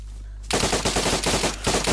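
Rapid bursts of automatic gunfire in a video game, loud and close, starting after a brief quiet lead-in and continuing as repeated dense volleys.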